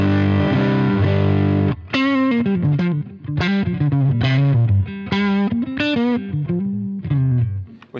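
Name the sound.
electric guitar amp with crunch boost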